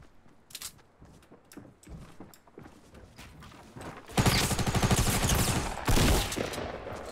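Gunfire in Fortnite, with shotgun blasts among it. Scattered sharp shots and clicks come first, then a dense, loud burst of rapid fire, a short pause, and another heavy volley.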